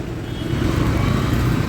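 A repaired motorcycle engine that had previously seized runs with a steady, dense idle rumble, close and fairly loud, with no voices.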